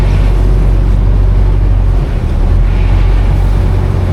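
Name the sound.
boat ride on floodwater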